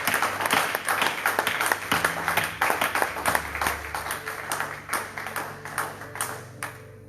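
A church congregation applauds to acclaim the king with a run of brisk, rhythmic clapping. Sharp claps pulse in a steady beat over a low held tone, then slow and fade near the end.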